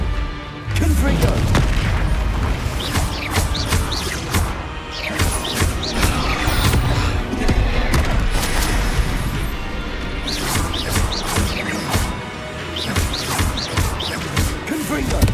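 Repeated Confringo blasting-curse explosions in Hogwarts Legacy, loud booming crashes and whooshing spell blasts crowding together over the full stretch, with spell-casting shouts mixed in among the impacts.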